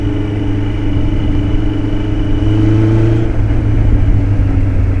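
A 1977 Kawasaki KZ1000 motorcycle engine running steadily while riding, with a loud, sustained low drone and a slight pitch shift midway, as during a gear change.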